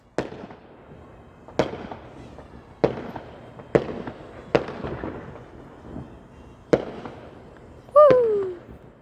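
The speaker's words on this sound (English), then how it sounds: "So apparently there are fireworks" Fireworks bursting near a house: six sharp, loud bangs spaced irregularly, each with a short echoing tail, ending in a whistling, crackling shell.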